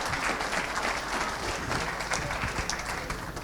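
Audience applause after a roundtable at an event on military camps, dense and steady throughout, a room full of hands clapping at close range with no talk.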